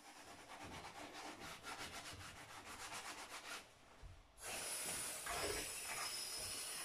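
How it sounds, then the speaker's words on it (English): A chopping board is scrubbed at the sink while dishes are washed, with close, rhythmic rubbing strokes of a brush, a brief lull, then a rush of running water and hissing spray. "Okay, so let's scrub that one."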